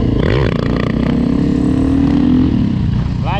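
Dirt bike (DRZ400E or EXC500) engine held in a slow wheelie with throttle and brake, a loud continuous drone with rising and falling revs throughout.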